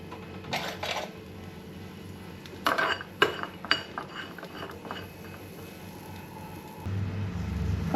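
Coconut pieces fry in a pan with a light sizzle. Several clusters of metallic clinks and scrapes come from a spoon stirring them, and a louder rumble rises near the end.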